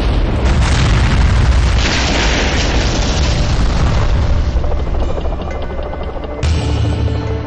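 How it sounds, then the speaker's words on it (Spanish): Huge explosions during the armed siege at the Munich Olympics airport, a loud, dense, rumbling roar that fills the whole stretch, followed by a sudden fresh burst near the end, with no talk. "Hay más disparos y luego 2 enormes explosiones."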